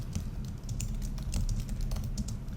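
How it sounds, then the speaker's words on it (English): Rapid typing on a computer keyboard, with a steady patter of clicky keystrokes sounding close and continuous, and no voices over it. "So let's just try typing something in."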